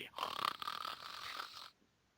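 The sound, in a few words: reader imitating a character snoring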